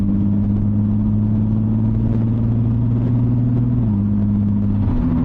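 A turbocharged VR6 engine in an MK5 Volkswagen R32 with a DQ500 gearbox, driven at light throttle, giving a loud steady low drone with a small pitch shift near the end, heard from inside the car with no talking.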